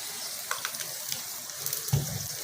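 A potato paratha fries in oil on a pan over a low flame, giving a steady soft sizzle with light crackles and one brief louder stir or scrape near the end.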